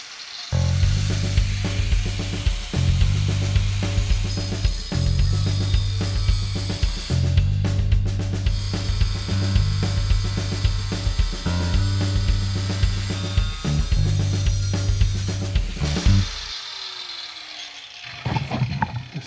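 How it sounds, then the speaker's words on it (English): A diamond cutoff wheel grinds through a nut on aluminum, a harsh buzzing whine with rhythmic surges as the blade bites, ending with the wheel spinning down. "what we got here is a diamond cutoff wheel. I'm gonna use it to cut right here"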